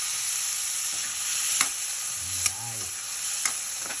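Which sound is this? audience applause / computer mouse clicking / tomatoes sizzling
tomatoes sizzling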